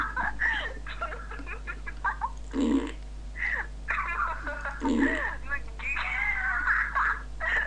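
Two short, low, blurting fart sounds break through a stretch of animated talking and giggling.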